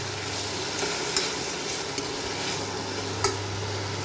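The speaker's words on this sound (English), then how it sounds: "Once the onion is nicely caramelized, we'll add our tomatoes. So fry this also nicely." Tomatoes frying with caramelized onion in a pan give a steady, close sizzle, with a few light clicks of a stirring utensil against the pan; no one speaks.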